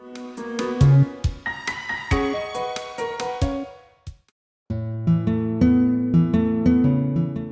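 Gentle, cozy Undertale area theme with soft plucked melodic notes, pausing briefly before a warmer, fuller passage resumes; steady and close.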